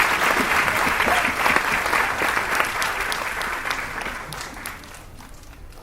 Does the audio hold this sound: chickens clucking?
no